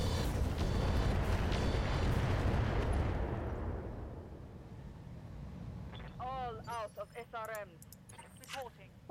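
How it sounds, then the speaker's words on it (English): Rocket barrage explosions in the mech combat game RogueTech BattleTech, a loud rumbling roar of blasts that fades over several seconds, followed by voices talking. "Rocket barrage."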